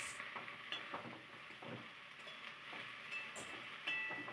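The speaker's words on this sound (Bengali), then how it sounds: "ভাপিয়ে রাখা আলু দিয়ে ভালো করে নাড়িয়ে চাড়িয়ে ওইটাও ভাজা ভাজা করে নেওয়া হচ্ছে" Steamed potatoes fry and get stirred in a pan for a winter vegetable curry with spring onion greens and aubergine, a steady close sizzle with scraping stirs running throughout.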